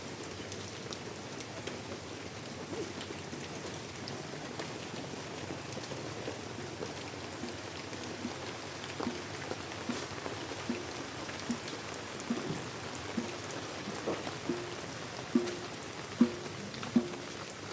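Drizzling rain patters steadily on surfaces at sea in the Philippines, with scattered sharper drops and taps becoming more frequent toward the end, no voices.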